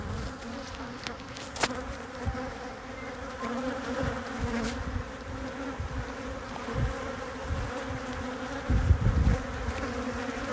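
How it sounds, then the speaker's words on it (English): Many honeybees buzz steadily around a hive, a dense droning hum with individual bees passing close by now and then. "there are lots and lots of bees in this one hive"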